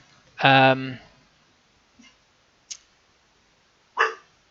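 One loud, close dog bark is followed by a few softer yips and a final sharp bark, with quiet gaps between them.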